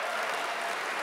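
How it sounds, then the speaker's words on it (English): Sustained, dense applause from a large audience at the Stanford Athletics 2023 Hall of Fame ceremony honoring its inductees, loud and even throughout with no voices over it. "another big round of applause for all of our inductees"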